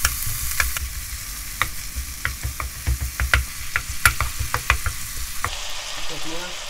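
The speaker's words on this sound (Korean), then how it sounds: "고기를 이제 볶으다가" Beef stir-frying in perilla oil for a stir-fry with oyster mushrooms, a low sizzle punctuated by repeated sharp scrapes and clacks of a utensil against the pan, close and busy, easing off at the end.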